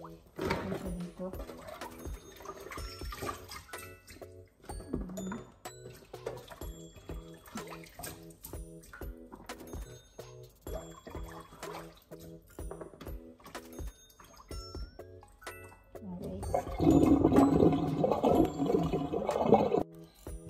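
Sliced food is washed under running water in a home kitchen. A short rush of water comes near the end, with dishes clinking and a person talking throughout.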